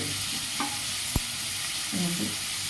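Chopped onions frying with a pinch of salt in a pan for potato kurma, a soft steady sizzle with a few scraping and tapping utensil sounds, one sharp knock, close and moderately loud.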